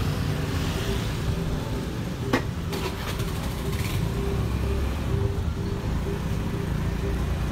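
Congested street traffic in a jam on Jalan Kartikaplaza and Jalan Pantai Kuta, a steady low rumble of idling engines with a few sharp clicks and brief bursts of noise, no talk.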